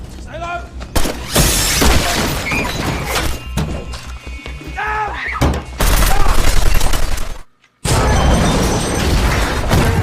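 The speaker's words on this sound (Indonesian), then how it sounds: "berlindung dari hujan tembakan peluru yang mengarah ke arah mereka" Chaotic bursts of gunfire crack repeatedly amid shattering glass and heavy thuds, loud and dense, with voices under the din and a sudden brief silence near the end.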